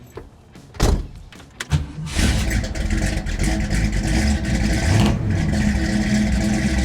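A Mercury muscle car at a classic car dealership starts up: a few sharp clunks and a cranking burst lead into the V8 catching and settling into a loud, steady, rumbling idle with a light rev.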